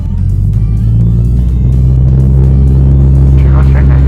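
A small training airplane's engine running at full power during a flight lesson, a loud steady droning hum that fills the whole clip without letup, with a voice talking over it.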